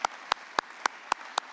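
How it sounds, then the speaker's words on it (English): Six separate, evenly spaced claps ring out at a conference lunch, sparse and fairly close rather than a full round of applause, with a quiet room between each one. "Another round of applause"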